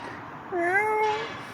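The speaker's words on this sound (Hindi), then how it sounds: "कैसे म्याऊं म्याऊं कर रही है" A cat on a village farm gives one clear, drawn-out meow, near and fairly loud, over a quiet outdoor background.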